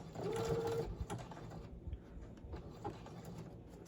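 A sewing machine stitches a small prayer quilt, its fast mechanical whir running steadily and close by before it slows and stops, followed by quieter handling noises.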